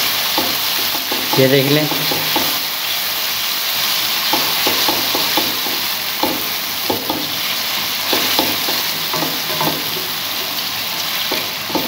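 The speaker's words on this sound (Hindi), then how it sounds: "इसी तरह से हम 2 से 3 मिनट इसकी भुनाई करेंगे।" Chana dal roasts in a hot pan with a continuous loud sizzle and hiss, broken by a steady run of spatula scrapes and taps. A voice speaks briefly near the start.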